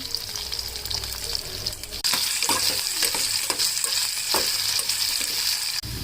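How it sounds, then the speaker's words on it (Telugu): Potatoes and curry leaves frying in a pan for kichidi, with a loud, continuous bright sizzle that jumps louder as the potatoes go in, and intermittent scrapes and knocks of stirring. "అలానే కరివేపాకు వేసాను. చూడండి, కరివేపాకు, అలానే ఆలుగడ్డలు వేస్తున్నాను"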